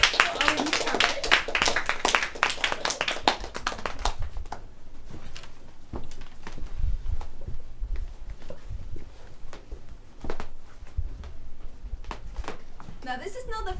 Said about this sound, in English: please give a big round of applause for our newcomers